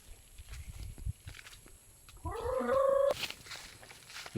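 A chicken on a farm gives a short burst of clucking calls mid-clip, fairly close, amid quiet rustling and faint footsteps.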